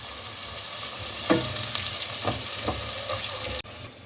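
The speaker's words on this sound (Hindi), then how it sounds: "इसमें एक मीडियम प्याज जिसकी मैंने स्लाइस में कटिंग की है वो डाल दें और प्याज को फ्राई कर लें" A sliced medium onion fries in hot oil in a pot with a loud, steady crackling sizzle, punctuated by a few utensil knocks and a sudden brief cut near the end.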